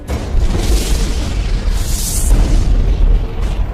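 A deep, sustained rumbling roar with crackling hiss swelling and fading, a supernova explosion effect like a distant massive blast echoing on.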